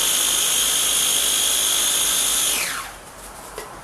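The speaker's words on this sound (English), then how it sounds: "is the sound of the chopper chopping the snot out of graham crackers." An electric food chopper grinds graham crackers into crumbs with a loud, steady high-pitched whirring motor that runs alone for several seconds, then winds down and stops.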